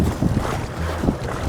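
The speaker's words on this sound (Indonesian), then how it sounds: "Cuaca angin sih yang lumayan gede ini yang sama ombak." Strong sea wind buffets the microphone while fishing from a boat, a steady rushing roar with gusty low thumps over choppy waves, loud and close throughout.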